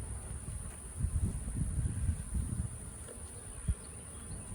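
A dense, steady low buzzing of many honeybees close by at an open hive during a hive split, with a faint high whine above and no talking.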